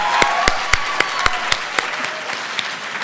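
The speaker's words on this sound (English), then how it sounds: "please give one more huge round of applause for all of these contestants" Audience applause for high school poetry recitation contestants at a finals event, with sharp individual claps ringing out over a steady wash of clapping that carries on for several seconds.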